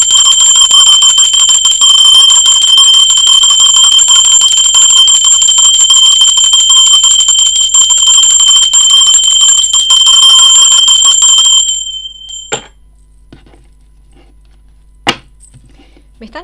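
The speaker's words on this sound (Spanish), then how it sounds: "Así que va campana," A bell rings loudly and continuously for about twelve seconds with a bright, steady metallic tone, then stops abruptly, leaving near silence broken by a couple of faint clicks.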